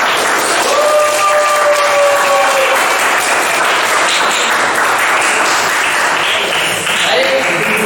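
Loud applause and cheering from a class of children in a Quran lesson, continuous dense clapping with a few raised voices rising above it.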